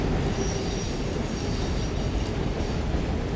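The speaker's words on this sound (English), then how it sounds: "it'll probably take a minute or 2 before that train kind of like does its little loop" A train in Resident Evil Requiem rumbles past steadily with a dense rolling roar and faint metallic squeal, loud and continuous with no talking.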